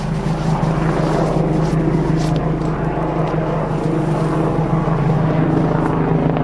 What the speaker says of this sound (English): But I think someone is lost or something, and they are searching because it's a police chopper.